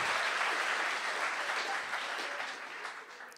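Applause from a science slam audience, many hands clapping in a full, even wash that slowly fades toward the end.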